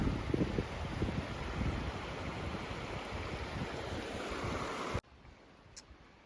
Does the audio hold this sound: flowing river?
yes